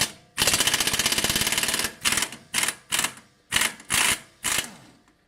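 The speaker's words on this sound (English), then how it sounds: "you got your impact gun here with the 22mm socket" Impact gun with a 22mm socket working a strut bolt on a 2010 Toyota Corolla, starting with one long rattling burst followed by about six short hammering bursts with brief pauses between them.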